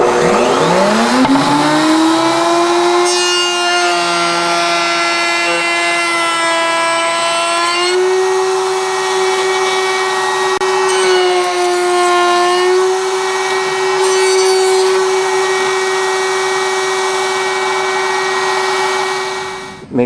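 A router cutting wood for a pen gives a loud, steady high-pitched whine as it spins up, holding a sustained tone with slight pitch dips while the bit works through the wood, then cutting off at the end.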